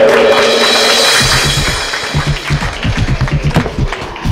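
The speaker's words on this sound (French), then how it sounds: "On applaudit Luc" Studio audience clapping for a guest named Luc on a French talk show about blogs, a steady close burst of hand claps that starts over a voice and then continues alone.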